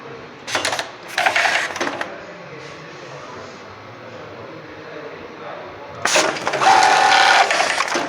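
A VI.BE.MAC S4650 loop machine stitches a bartack in two short bursts of rapid mechanical clatter, close and loud, separated by a quieter stretch of low machine hum.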